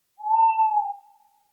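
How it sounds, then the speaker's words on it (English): Owl hoots, a single sustained, smooth tonal call that holds steady for about a second and then trails off, clear and alone with no talking. "relax with the sound of owls"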